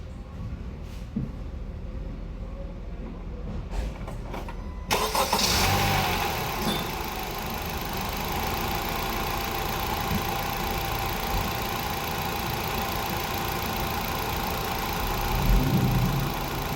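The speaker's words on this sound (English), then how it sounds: "you wanna start the engine." A car engine with a non-working AC cranks and catches about five seconds in, then settles into a steady, loud idle that runs on with no talking.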